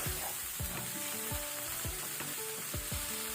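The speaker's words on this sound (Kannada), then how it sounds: "ಮಸಾಲ ಒಳ್ಳೆ ರೀತಿ ಫ್ರೈ ಆಗಿದೆ" Tomato masala fries in a pan with a steady, close sizzle and hiss, broken by rhythmic scraping strokes of a stirring spoon about every half second.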